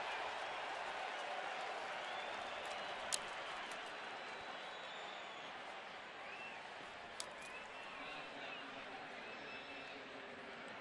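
A hometown baseball crowd at a Cleveland home game lets out a faint, steady mock cheer with scattered claps, heard from afar under a broadcast-style background.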